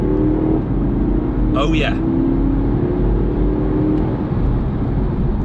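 A 2017 Porsche Panamera 4S accelerates hard under full throttle on open road, its engine note droning and rising steadily beneath loud cabin noise, with a brief voice exclamation partway through.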